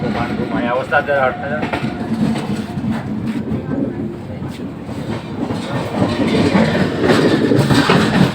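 A Humsafar Express train from Darbhanga to Delhi runs steadily on the rails, with a continuous loud rumble and a faint clickety-clack of the wheels. Heard from on board, with no pause in the sound throughout.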